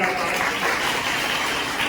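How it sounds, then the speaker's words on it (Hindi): Crowd applause fills a large public political rally in Farrukhabad, a steady dense clatter of many clapping hands that continues throughout, with a voice speaking over it. "जोरदार ताली बजाएंगे।"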